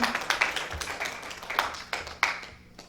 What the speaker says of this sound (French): clap for the word of God